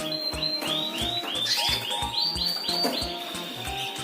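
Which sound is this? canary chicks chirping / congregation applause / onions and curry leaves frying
canary chicks chirping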